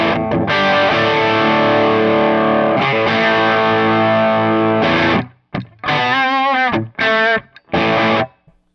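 Electric guitar played through a BuzzTone Megaplex pedal with a Plexi-style distortion, loud sustained crunchy chords ringing for several seconds, then a series of short choppy stabs and a bent note separated by silences.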